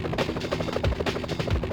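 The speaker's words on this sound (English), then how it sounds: "And now the police choppers just surrounded them." Police helicopters hovering in the Spider-Man 64 video game, a steady rhythmic rotor thump that stays loud and continuous, with no voices.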